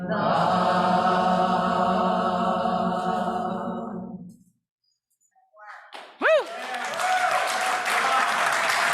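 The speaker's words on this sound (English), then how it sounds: "That was applause for the Deckers and the choir" Sustained musical tones end, followed by a short silence. Then applause breaks out for the Deckers and the choir, steady and fairly loud, with a brief sweeping tone near its start.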